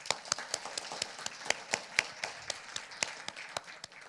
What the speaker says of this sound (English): I would like to give another round of applause to the class of